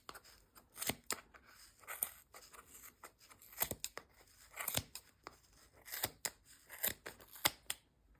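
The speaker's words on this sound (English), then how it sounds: "you're going to cut through the loops here on each side" Scissors snipping through yarn loops held on a pom pom maker, a steady run of close, crisp cuts in quick irregular succession with no talking.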